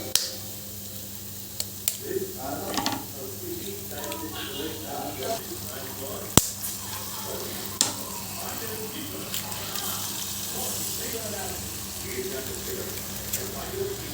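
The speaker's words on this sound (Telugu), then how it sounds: "ఎగ్స్ మీ ఇష్టం ఎన్ని కావాలంటే ఎన్ని వేసుకోండి నేనైతే ఒక ఫోర్ వేసిన కొంచెం ఆయిల్ వేస్తాను" Four eggs fry in a spoonful of oil in a pan, giving a quiet steady sizzle with small scattered pops and crackles throughout.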